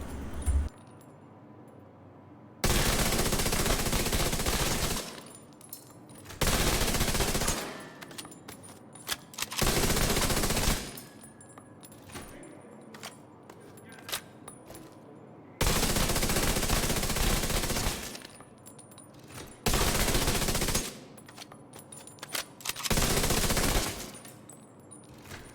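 Automatic weapons in The Division 2 firing range let off repeated long bursts of rapid gunfire, loud and close, separated by short quiet gaps, with no talking.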